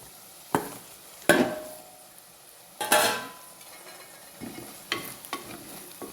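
Chili powder sautéing in a pan for Kerala fish curry, with a spoon scraping and knocking against the pan in several spaced strokes over a soft, steady sizzle.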